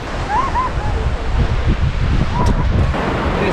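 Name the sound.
ocean waves and wind at a beach, Esperance, Western Australia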